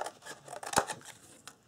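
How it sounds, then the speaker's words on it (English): Large scissors snip through paper flaps for a craft chest, a few quiet, close crisp cuts with one sharper snip in the middle. "I'm going to get my bigger scissors because I can cut better with that."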